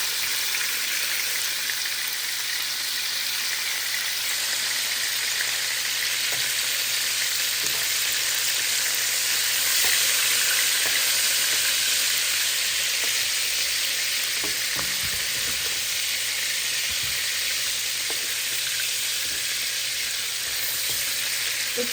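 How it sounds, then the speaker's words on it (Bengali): Pieces of rohu fish sizzle steadily in hot oil in a pan, a continuous loud crackling hiss with occasional small pops and stirring clinks, no voices. "তো এই যে মাছটা ভেজে ফেলছি"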